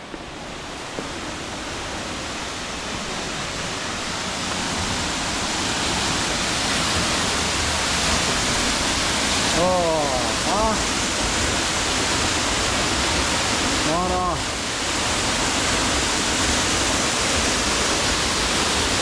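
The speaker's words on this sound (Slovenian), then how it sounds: "Pojmo še nekam bližji do slapa." Steady, loud roar of a waterfall close by near Gjipe beach in Albania, a continuous broadband rush of falling water filling the whole stretch with no talking.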